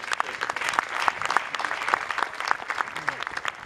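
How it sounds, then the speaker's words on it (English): An audience at an outdoor military band concert applauds with brisk, crisp clapping, moderately loud and fairly close, with a few voices faintly mixed in. "we can applaud for that."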